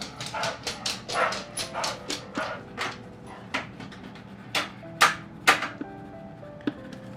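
Dog named Honey running back and forth on a wooden deck and into a house, a string of quick light thumps and taps with a few short yips and whimpers, fairly faint and in the background.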